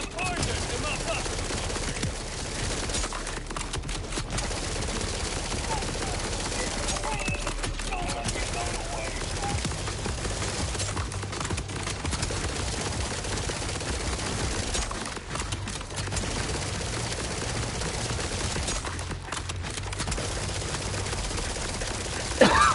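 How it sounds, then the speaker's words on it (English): Gunfire from a high-powered gun in the video game Borderlands 4, dense rapid bursts running continuously under game sound, with short breaks between volleys. "This gun's OP."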